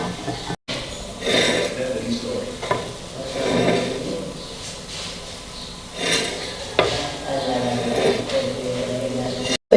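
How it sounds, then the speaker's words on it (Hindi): Beef keema pulao rice being stirred in a pot, soft scraping and rustling strokes with a faint sizzle underneath, broken by brief clinks of a spoon against the metal, while a voice talks over it. "और हम चावलों को हिलाएंगे और डिश में निकालेंगे"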